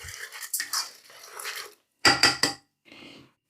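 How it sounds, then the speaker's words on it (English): Someone stirs a mirin, soy sauce and water mixture in a pot, making quick clinking and scraping strokes close by, in short bursts separated by brief pauses. "Give it a quick stir."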